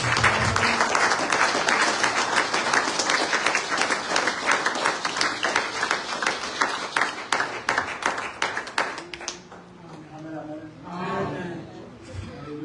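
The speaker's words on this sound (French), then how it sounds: "Applaudissez" Sunday church service congregation clapping, a sustained round of dense, rhythmic applause that dies down around nine seconds, followed by voices speaking.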